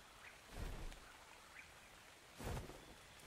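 Rain falls in the video game ARK: Survival Evolved on a dark, foggy night, a faint steady hiss broken by two low thunder-like rumbles near the start and the end.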